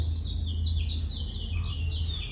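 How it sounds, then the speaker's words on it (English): Several birds chirp and tweet in quick, high overlapping calls over a low steady hum, fairly close and continuous. "Can you hear the birds"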